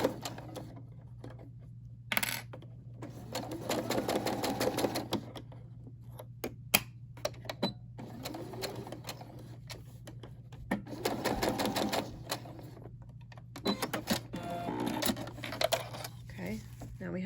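A Brother SE600 sewing machine with a jersey needle stitches fabric in several runs of fast, even needle chatter, pausing between bursts, with a steady low hum underneath throughout.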